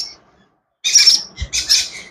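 A baby bird being hand-fed gives a few high, bright chirps in quick bursts, close and fairly loud, after a short pause of near silence.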